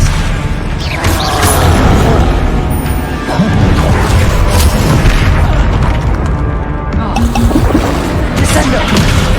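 A spell being cast in Hogwarts Legacy lands as a loud booming, crashing burst with cracking impacts, followed by further spell blasts and rumbling over a busy game mix.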